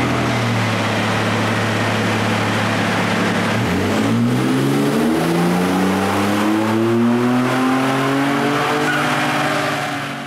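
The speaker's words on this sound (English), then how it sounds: "First we'll run the truck with the BoostMAX turned off, with the adjustment knob set to zero." A Ford F-150 pickup with the 3.5L EcoBoost engine runs with its boost controller switched off, a loud steady engine drone that sweeps upward in pitch as it revs and accelerates, with no talking.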